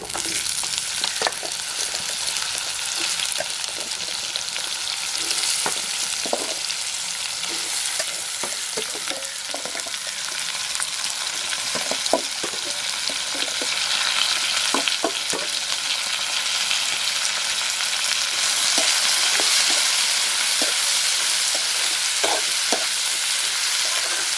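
Onions, curry leaves and raw plantain sizzle steadily in a pan for a Kerala plantain and cowpea thoran, with a constant hiss broken by frequent light clicks and scrapes of stirring; no voices.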